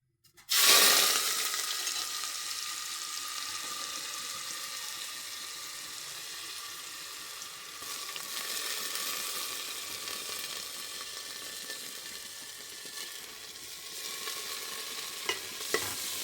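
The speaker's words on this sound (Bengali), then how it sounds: "তো চালটা আর ডালটা আমি ভেজে নেব" Rice and lentils being dry-fried and stirred in a pan for a light, mildly spiced khichuri, giving a steady soft sizzle with scraping stir strokes throughout, no talking.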